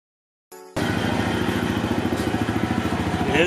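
A motorcycle engine starts after a brief silence and runs with a loud, steady, rapid throbbing pulse that grows slightly louder toward the end, with no voices heard.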